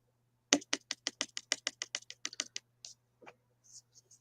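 Close, crisp keyboard typing: a quick run of about fifteen sharp key clicks over two seconds, then a few scattered softer taps, over a faint low hum in an otherwise quiet room.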